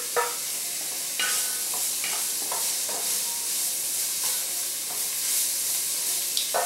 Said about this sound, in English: I'm going to be adding some red onions.